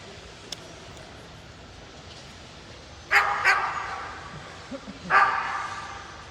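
A nervous dog at a dog show handling session gives a couple of sharp barks, one near three seconds in and another about two seconds later, each trailing off over a quiet room background with no talk.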